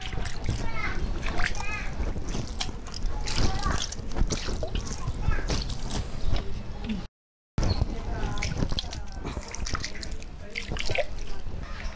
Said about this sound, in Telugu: ఈ విధంగా గోను సంచి చేసుకున్న తర్వాత నీళ్లు చల్లుకోవాలి